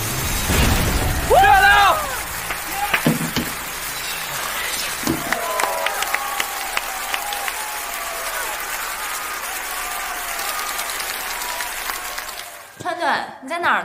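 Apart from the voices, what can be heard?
applause for the Snow Wolf team's victory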